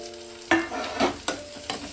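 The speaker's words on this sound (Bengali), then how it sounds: "এবার আমি এর মধ্যে দিয়ে দেবো একটা টমেটো কুচি" Chopped tomato lands in a pan of frying onions for a Bengali fig and prawn curry, then a spatula scrapes and stirs in several quick strokes over a steady background sizzle.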